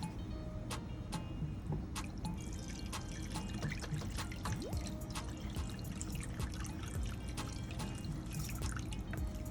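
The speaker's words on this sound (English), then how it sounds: "Also gonna add 1 cup of water." Water trickles and drips steadily into a pan, with small splashes and clinks up close throughout.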